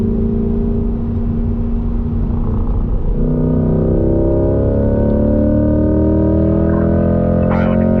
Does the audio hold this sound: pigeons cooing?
no